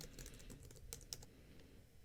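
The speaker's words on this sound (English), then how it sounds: "I'll hit S on my keyboard" Light typing on a computer keyboard while working in SOLIDWORKS CAD software: a quick, quiet run of soft key clicks with one or two slightly sharper taps.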